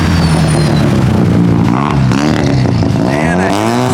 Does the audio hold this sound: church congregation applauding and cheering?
no